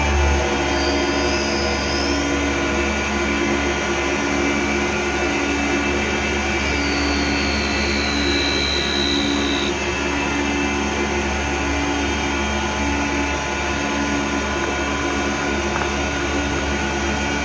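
A Tormach 8L lathe spindle hums steadily while running a G-code program, a constant loud whirring drone with faint high tones sliding briefly in the background.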